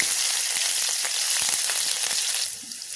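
Green chillies and whole cumin seeds fry in hot mustard oil, giving a loud, close, bright sizzle with crackling pops that eases off near the end, with no talking.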